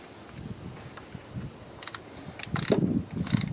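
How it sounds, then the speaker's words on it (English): A 1/4 inch ratchet snugs down thermostat housing bolts on a 2015–17 Mustang GT Coyote engine, giving a few short, close ratcheting clicks in scattered bursts with soft handling noise between them. "It's basically hand tight with a 1/4 inch ratchet"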